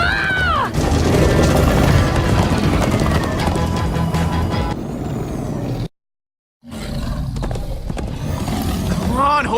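Horses galloping in Minecraft: Story Mode, a loud dense rush of hooves and game noise that cuts out briefly before resuming, with voices shouting over it.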